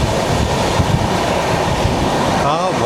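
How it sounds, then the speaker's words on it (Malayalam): Howrah–Bengaluru Duronto Express running through Kavali station, a loud, steady rush of rolling wheels and rail noise filling the whole stretch without a break. "ഹൗറ ബംഗളൂരു ദുരന്തോ എക്സ്പ്രസ് ആണ്."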